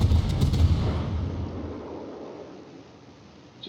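Warship guns boom in World of Warships during blind firing from a Myoko-class cruiser, one heavy blast followed by a long, slowly fading rumble, loud and with no voices.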